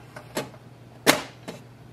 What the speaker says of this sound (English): Close the ink cartridge chamber door.